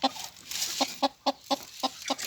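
Hen clucking nearby, a short run of about six quick, evenly spaced clucks, fairly faint against a quiet background.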